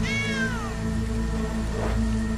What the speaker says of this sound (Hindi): अरे ये तो छोटी सी बिल्ली है।